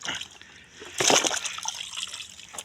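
Water pours and splashes onto burlap sacking being soaked for smoking salo, a short close trickle that swells into a splashy gush, then tapers into dribbling.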